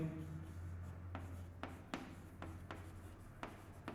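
Chalk or marker tapping and scraping on a classroom board during a chemistry lesson, a series of sharp close strokes spaced irregularly over a low steady hum, with no speech.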